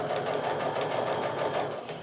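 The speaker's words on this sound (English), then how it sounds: "now we're back at the sewing machine, and again, same thing. I'm sewing a scant 1/4 inch seam down either side of that drawn line." A sewing machine runs steadily while stitching a scant quarter-inch seam on quilt block fabric, giving a close, continuous whirring and clatter with no pauses.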